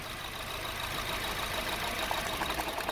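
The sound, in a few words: Honda Civic engine misfiring, rough idle with coil disconnected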